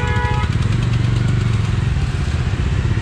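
A Bajaj Dominar 250 motorcycle engine thrums loudly and steadily up close while riding through heavy city traffic, a continuous low rumbling drone with no talking.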